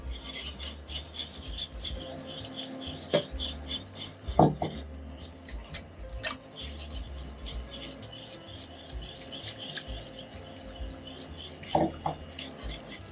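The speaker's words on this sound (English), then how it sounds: "So now we're gonna keep whisking until this thickens up a little bit." A whisk rasps and scrapes steadily against a pan, working butter and flour into a creamed spinach sauce, with rapid repetitive metallic strokes and a few sharper clinks, close and continuous.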